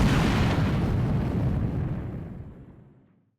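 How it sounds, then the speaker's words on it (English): A huge explosion near an armored personnel carrier in a war zone, a deep, loud boom whose rumble rolls on and fades away over about three seconds. "and an explosion occurs"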